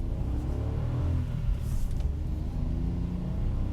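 A 2024 Kia Picanto city car pulls away from a stop, its small engine a steady mid-range drone and rumble building gently from inside the cabin, with no one speaking.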